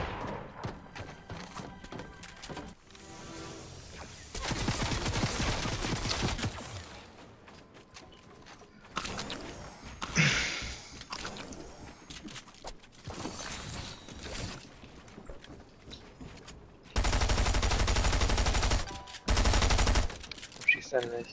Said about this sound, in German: Jetzt, wieso hast du geschossen?